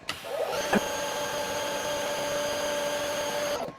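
EGO 56V battery pressure washer spraying through a 40-degree nozzle at low setting, a steady close whine with a constant tonal hum that starts abruptly and holds evenly for a few seconds before cutting off.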